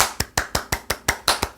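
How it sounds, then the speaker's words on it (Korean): Seven quick, evenly spaced hand claps ring out sharply and close up, each a crisp slap with a short decay, at a brisk steady rhythm. "일단은 박수부터 치고 시작을 해보겠습니다."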